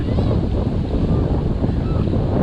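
Ocean waves washing around three men standing in cold surf, with steady low roar and rushing wind buffeting the microphone throughout, no gaps.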